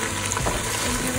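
Onions, carrots and squash sizzling in olive oil in a pan while being stirred, a dense close frying hiss with scraping stir sounds throughout.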